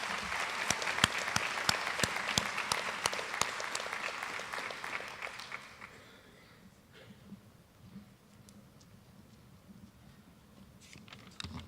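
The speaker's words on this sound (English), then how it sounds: "Let's give a round of applause for our MVPs and Panther Awards from the spring." A high school athletic banquet crowd applauds MVPs and Panther Award winners, loud dense clapping for about five seconds that drops away to quiet room noise with a few scattered late claps.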